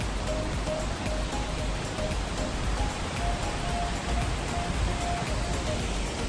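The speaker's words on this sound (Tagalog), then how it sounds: "madungogin nato ang tingog sa bagsak sa tubig sa ilang waterfalls." Waterfall at Sinulom Falls in Talakag, Bukidnon, a steady broadband roar of falling water that stays even and continuous throughout, near and full with no pauses.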